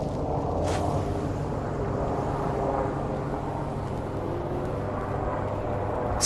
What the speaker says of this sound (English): there's like freaking so many helicopters like above me too